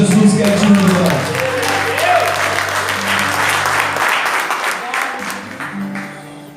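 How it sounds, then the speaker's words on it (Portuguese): A church congregation at a public worship service clapping their hands for Jesus, a dense sustained round of applause with a voice over the start, easing off toward the end. "Glorifique a Deus com as palmas para Jesus"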